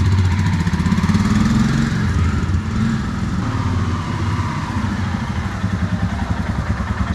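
A Royal Enfield Himalayan motorcycle on a test ride after a handlebar riser install, its single-cylinder engine thumping steadily and loudly under riding wind.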